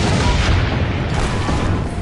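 Heavy cannon fire in the game Assassin's Creed Brotherhood, loud rumbling booms blending into a dense, continuous low roar of battle.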